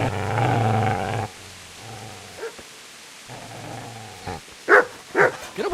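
A dog growls low and steadily, then lets out a few sharp, loud barks near the end, close by with quieter pauses in between.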